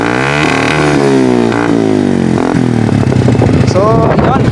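Motorcycle exhaust fitted with a silencer, loud and close, the engine revving up and down in repeated throttle blips with gliding pitch before settling into a rapid throbbing idle.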